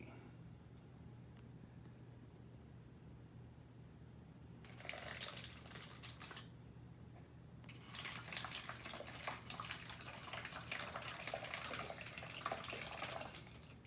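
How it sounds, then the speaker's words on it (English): Water poured through a funnel into a bottle makes two hissing, splashing bursts, a short one and then a longer steady stream after a pause, close and fairly quiet, with no speech. "So he has poured the water into the bottle."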